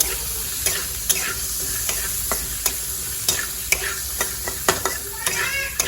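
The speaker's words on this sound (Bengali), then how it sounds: "এখানে আমি ছোলা ভাজি" Chickpeas frying in a pan, a constant loud sizzle with sharp clicks and scrapes at a steady pace as they are stirred and knocked about, close by.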